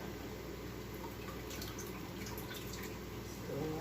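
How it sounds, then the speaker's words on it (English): Water trickles and splashes faintly into a bowl for rinsing rice in a home kitchen, a soft continuous pour with light drips throughout. "So I put in some water in this bowl."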